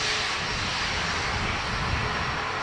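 A KLM airliner at Dublin Airport, its engines giving a steady, loud broadband roar that holds for a few seconds.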